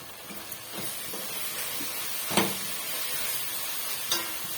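Meal maker fried rice ingredients sizzle softly in a pan with a steady hiss, broken by a few sharp clinks and scrapes of stirring.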